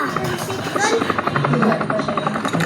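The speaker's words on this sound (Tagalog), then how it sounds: "Ano, helicopter?" Helicopter in the mobile shooter game Call of Duty Mobile, a rapid rhythmic rotor chop running steadily throughout at moderate loudness, mixed with people talking over it.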